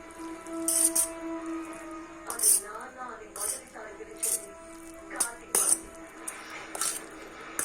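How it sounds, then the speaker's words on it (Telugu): Noodles being mixed thoroughly in a bowl, with repeated clinks and scrapes of utensil against dish in irregular bursts, close by, while a person talks quietly. "ఇలా బాగా అంటే బాగా కలుపుకోవాలండి"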